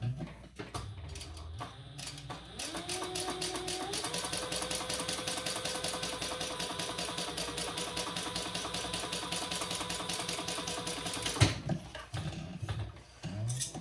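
A sewing machine stitches a fabric sling, running as one steady rhythmic whirr for most of the clip, close and even, then stopping abruptly near the end.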